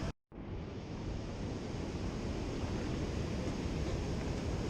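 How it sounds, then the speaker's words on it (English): Pacific Ocean surf breaking on a beach during shore fishing: a steady, loud wash of roaring wave noise that runs unbroken after a brief instant of silence at the start. "Pacific Ocean."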